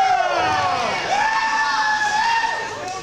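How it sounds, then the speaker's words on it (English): Wrestling crowd at a GLCW show in 2004 cheering loudly, a sustained roar of many voices with rising and falling whoops and shouts filling the hall. "are these guys cheering for us because we're amazing wrestlers?"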